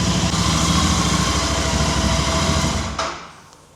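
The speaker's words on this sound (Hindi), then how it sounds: "और बाकी बाइक कुछ ऐसी साउंड करती है स्टॉक एग्जॉस्ट में।" A Royal Enfield Interceptor GT 650 twin-cylinder motorcycle idles through its stock exhaust, a close, steady, even thrum that holds for about three seconds and then fades out.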